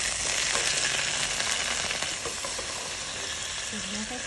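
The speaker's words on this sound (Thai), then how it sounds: "เดี๋ยวเราจะมาผัดกันเลยผัดง่ายๆค่ะ" Garlic and black soybean paste being stir-fried for rad na, a loud, close, continuous sizzle with scraping stirring strokes, easing slightly in level partway through.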